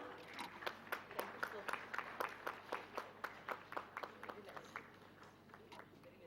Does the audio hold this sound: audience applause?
yes